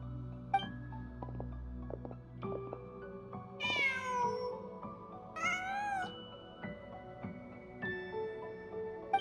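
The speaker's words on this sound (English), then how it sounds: "Just a cat." A cat in the video game Genshin Impact meows twice in a row, with distinct rising and falling cries over soft ambient game music and quiet chimes.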